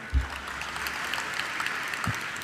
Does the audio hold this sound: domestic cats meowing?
no